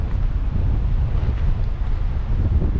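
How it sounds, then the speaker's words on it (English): Heavy wind buffets the microphone beside an alpine lake, a loud low rumbling roar that gusts continuously throughout. "the wind's a little loud"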